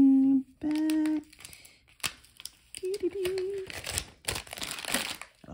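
Adhesive vinyl peeled back from its backing, crinkly tearing and crackling bursts close by, following a few short tonal squeaks and with some talking mixed in.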